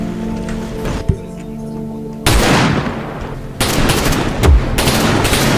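Loud bursts of gunfire in the video game Wasteland come as dense, crackling volleys that start and stop abruptly, with a sustained roar between them and no talking.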